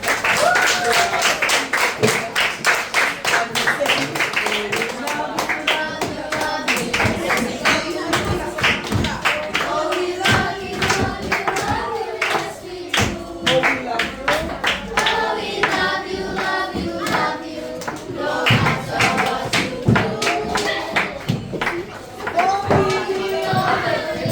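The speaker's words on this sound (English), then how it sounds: "Let's give blessing a clap." Students in a classroom in St Vincent and the Grenadines clap for a classmate, loud close hand claps in a fast, uneven rhythm with voices talking and calling out over them throughout.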